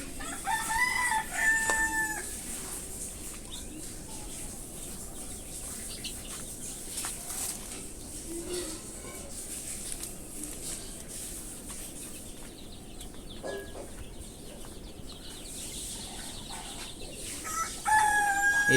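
Chickens in a farm coop, with clucking and a rooster crowing near the start and end over a quiet, steady rural background.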